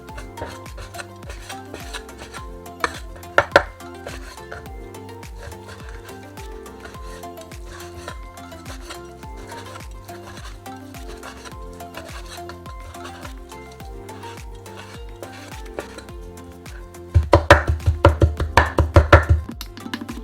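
A knife chops pork into mince on a board, quiet steady strokes under background music, then a loud burst of rapid, heavy chopping near the end.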